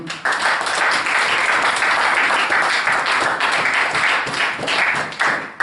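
A church congregation claps and applauds together at a steady, dense pace, loud and continuous throughout, with no voices rising above the clapping.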